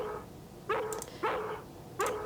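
A dog in the horror video game Harvester barks three times, short loud yelps spaced about half a second to a second apart over a quiet low background hum.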